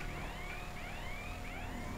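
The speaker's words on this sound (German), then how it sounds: "Oh, Sirene." Police siren in the video game GTA Online: a rising and falling wail repeating every half second or so, faint and steady for two seconds.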